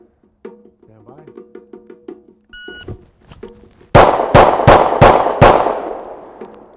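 Rifle fired with a red dot sight at a far target on an outdoor range: after quiet beeps and low chatter, a rapid string of five loud, sharp cracks rings out, each trailing into a brief echo.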